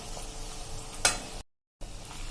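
Pakwan, crisp flat dough discs, deep-frying in oil over a medium flame, a steady close sizzle with a sharp crackling flare midway and a short silent gap before the frying resumes.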